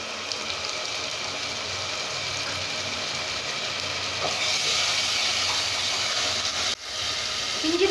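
Ginger garlic paste sautéing with onions in a pan for mushroom kurma, a steady close sizzle with faint stirring, growing a little louder midway and broken by one brief dip near the end.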